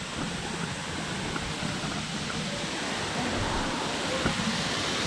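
A waterfall in a nature setting roars as a steady, broad rushing wash of water, constant and fairly near, with no clear voices over it.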